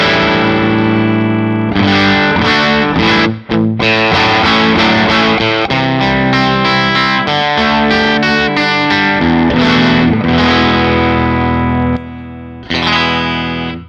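Electric guitar through an Arc Effects Soothsayer pedal in LED mode, with mild distorted grind, plays a busy riff of chords and single notes, loud and close, with brief pauses between phrases.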